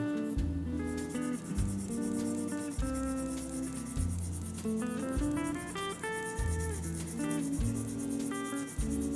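Coarse-grit sandpaper rubs against the body of a 1/24 Aoshima Honda Accord Wagon scale model, a steady close scratchy rasp partly masked by background music playing throughout.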